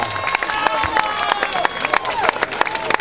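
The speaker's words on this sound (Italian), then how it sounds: "L'applauso è per Davide Revellin." Crowd applause and cheering for a cyclist on the podium at the GP Camaiore road race, with steady clapping from a mid-distance audience and sharp individual claps standing out above the babble.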